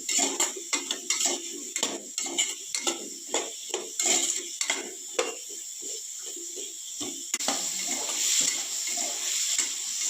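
Spoon stirring turmeric into brinjal (eggplant) chutney in a pan, repeated scraping and clinking strokes against the metal with a faint sizzle underneath, steady rhythm, close and clear with no talk.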